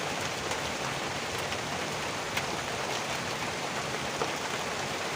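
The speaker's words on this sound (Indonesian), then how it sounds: "Hujan, Mas Bro, gede" Heavy rain pours steadily beside the upper Cisadane River in Bogor, a dense, even hiss of drops on surfaces filling the whole stretch with no break in intensity.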